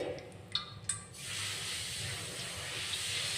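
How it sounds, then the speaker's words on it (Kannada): Oil heating in a cooking pot for village-style mutton masala gives a steady soft hiss and sizzle after a couple of faint clicks, close but fairly quiet, with no voices. "ನಾನಿಲ್ಲಿ ಈ ಪಾತ್ರೆನ ಕಾಯ್ಲಿಕ್ಕೆ ಇಟ್ಕೊಂಡಿದ್ದೀನಿ ಇದಕ್ಕಿಲ್ಲಿ ಒಂದು ಹತ್ತರಿಂದ ಹನ್ನೆರಡು ಸ್ಪೂನ್ ಆಯಿಲ್ ಹಾಕ್ಕೊಳ್ರಿ"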